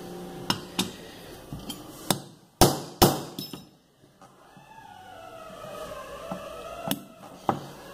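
Metal is hammered while a Ford Ka alternator is taken apart, with sharp, ringing strikes that come irregularly and close, including a pair of louder blows near the middle, over a low background hum.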